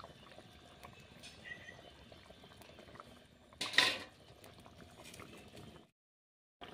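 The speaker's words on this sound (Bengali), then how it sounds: "তরকারিটা এবার ফুটতে থাকবে। ওর মধ্যে দিয়ে দিচ্ছি এই যে ভেজে রাখা বাটা মাছগুলো, দিয়ে আমি 4 থেকে 5 মিনিট ফুটিয়ে নেব।" A pot of curry with fried bata fish pieces bubbling on the stove, a soft continuous simmer with light clinks of a utensil and one brief louder splash or stir near the middle before the sound cuts out.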